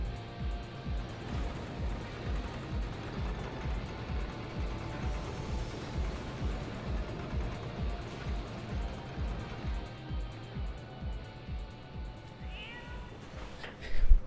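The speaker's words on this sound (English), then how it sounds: "Hey, kitty." A cat meows in the video game Final Fantasy XIV during a Heavensward raid, faint and repeated under a dense, steady wash of game music and ambience, with a brief louder burst near the end.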